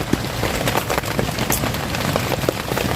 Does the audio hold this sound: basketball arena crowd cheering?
no